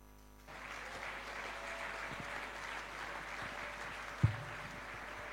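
An evangelical church audience in a French-language service applauding, a steady wash of clapping that starts abruptly, stays fairly distant and even, with one sharp thump partway through.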